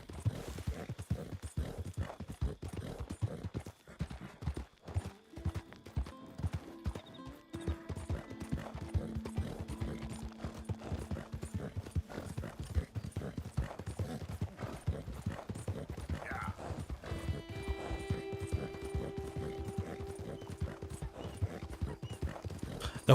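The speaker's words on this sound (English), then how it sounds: "The horse is making fucking weird noises though." Horse hooves clip-clop at a steady run in the Red Dead Redemption 2 video game, with a few whinnies and neighs standing out partway through, continuous and fairly close with no talk over it.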